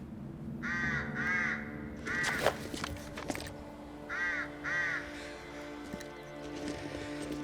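Crows in The Long Dark survival game caw in two short bursts of paired calls, then a second pair later, over a steady wind-like ambient drone with some clattering in between.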